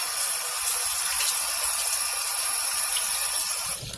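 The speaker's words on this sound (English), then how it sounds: "I have it in a colander, and also I've been lately using like this giant bowl, and I'll rinse it under cool water." Cool tap water runs steadily over rice in a colander at a kitchen sink, a close, continuous hiss and splash that fades at the end.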